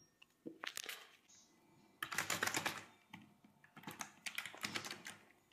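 Code is typed on a computer keyboard, close and quiet, coming in quick clusters of key clicks separated by short pauses, with no talking.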